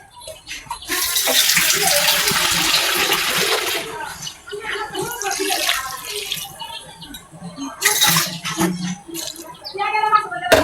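Water is poured into a pot of cooking taro, a gushing, splashing stream that rises loudly for a couple of seconds, then continues in uneven bursts with bubbling and faint voices.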